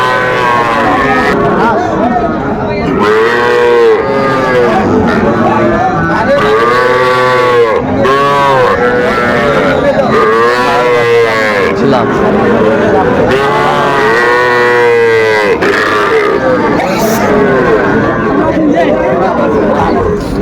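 Bull calves moo loudly and repeatedly at a busy Dhaka cattle market, their long calls overlapping with constant crowd chatter and people talking close by.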